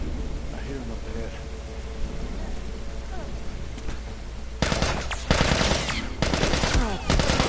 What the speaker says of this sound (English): Damn up ahead, they're shooting at us!